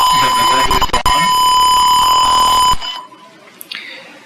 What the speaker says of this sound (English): then what happens is I have not turned on the IR sensor now. The buzzer will go on.